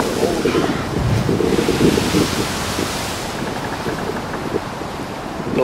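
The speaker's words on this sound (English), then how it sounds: "Look at that. That's the ocean, man." Ocean waves wash in steadily under strong wind buffeting the microphone, a loud, continuous broadband roar by the water.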